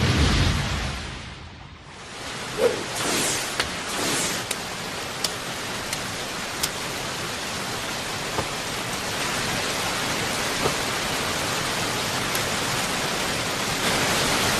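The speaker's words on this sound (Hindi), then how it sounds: "बारिश हो रही है" Steady rain pours down in a scene from the Naruto anime, a dense hiss of falling water that briefly dips, then holds loud and even, with a few scattered sharper drops.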